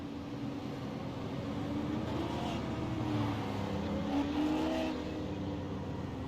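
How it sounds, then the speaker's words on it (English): Super late model pace car circling the ISM Raceway oval, a steady engine drone from a distance holding at an even level throughout, with slight swells as it rounds the turns. "Pace car rounding through turn 3, 4, some weird tri-oval thing"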